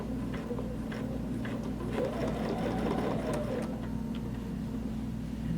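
A sewing machine runs steadily, stitching a quilt block along a ruler in a continuous, even whir with fine repetitive ticking from the needle, close and alone.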